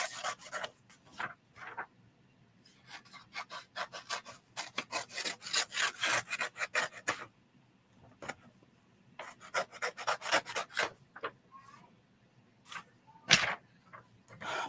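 Close-up snipping and rubbing while paper ends are trimmed with scissors for sublimation printing, in irregular short bursts with pauses between, quiet and with no talking.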